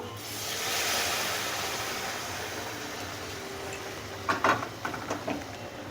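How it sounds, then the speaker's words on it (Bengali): Hot water hits sizzling paneer curry in a pan and gives off a broad hiss of steam that swells and then slowly fades. A few sharp clinks of utensil on pan follow near the end. "গরম জলটা দিয়ে দেব"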